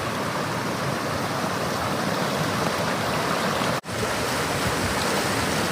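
A mountain creek flowing beside a campsite, a loud, steady broadband rush of water filling the whole clip with one brief dropout near the end.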